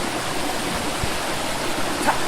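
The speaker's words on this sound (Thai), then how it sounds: "ทางน้ำไหลแบบนี้ สามารถใช้เป็นน้ำดื่มได้ดีทีเดียวครับ" A jungle stream flows near the Chanta Thoen waterfall in Thailand. The water gives a steady, close rushing hiss with faint gurgles and no talking.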